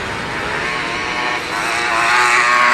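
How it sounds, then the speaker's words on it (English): Grasstrack racing motorcycles roar past at close range, a loud sustained engine howl that swells toward the end as the pack goes by, with no talk over it. "Lewis Pugh, and 143, Louis Godin, in that order as they go past us."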